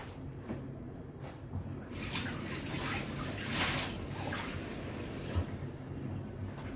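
Water pours into a cooking pan of galunggong fish, tomato and onion for paksiw, a steady splashing wash that swells midway and fades, with no talk over it.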